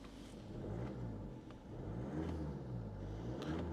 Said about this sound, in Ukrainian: Оберти бере добре.